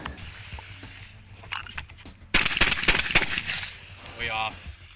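A shotgun fired outdoors in Wisconsin during competitive shooting, a loud close blast with a sharp crack and burst of echoing noise midway, amid background ambience.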